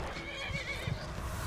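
A horse in a vampire-themed video game mod neighs in a quavering whinny of about a second, over a dense background of game ambience and low thumps.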